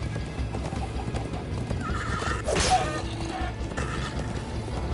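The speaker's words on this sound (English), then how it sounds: "First time on a horse here." A horse in Minecraft Story Mode whinnies once, loud and close, over steady galloping hoofbeats and mechanical clatter, all heard without talk.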